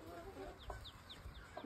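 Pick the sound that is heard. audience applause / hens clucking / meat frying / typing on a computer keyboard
hens clucking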